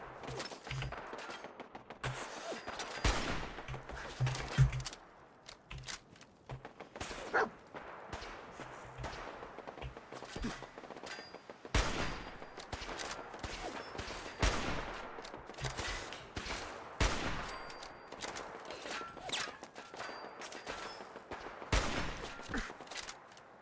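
Rapid gunfire bursts and repeated shots in Fallout 4, loud and close, coming in dense volleys with brief pauses over about twenty seconds, no talking.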